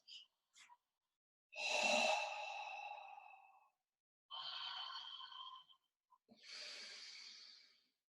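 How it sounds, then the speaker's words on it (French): Breathing exercise for core work: long, airy open-mouth exhalations alternate with slower nasal inhalations, three main breaths separated by silence plus a few short sniffs at the start, close and soft, no talk. "Une belle expire par la bouche. On ouvre bien la bouche comme si on voulait bailler de l'air chaud qui sort de la bouche."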